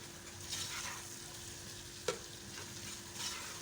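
Beef frying for jalfrezi, already tenderised, giving a faint steady sizzle in the pan with a few soft stirring sounds and a single sharp clink partway through, no voices.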